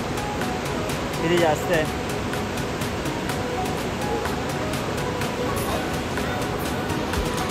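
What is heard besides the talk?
forceful rushing water on Kedarnath trek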